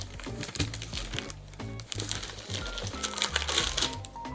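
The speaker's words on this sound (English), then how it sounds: "Okay, we're unwrapping." A wrapped package being unwrapped up close, with fairly steady crinkling and rustling of paper or plastic wrap and some tearing, continuing without talk throughout.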